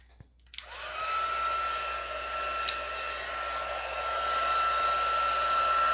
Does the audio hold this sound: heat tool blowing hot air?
yes